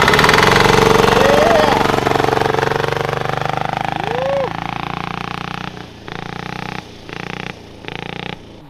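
A turbo diesel go-kart engine runs loud and steady, rattling throughout, with its tone dipping and then cutting in and out in short bursts toward the end.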